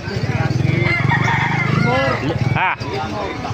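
A black Gilmore Hatch rooster crows loudly and close by, one drawn-out call, with clucking fowl and a brief sharper cry near the end.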